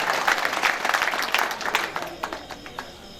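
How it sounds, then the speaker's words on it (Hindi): Audience at a Hindi poetry recital clapping loudly, a thick wash of applause that gradually thins into scattered individual claps. "ये इतनी जोरदार आपने तालियां बजाई है, सच में।"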